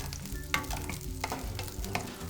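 Green onion stir-fried in cooking oil, a steady soft sizzle with faint scraping and light clinks of the utensil, fairly quiet and close, no voices.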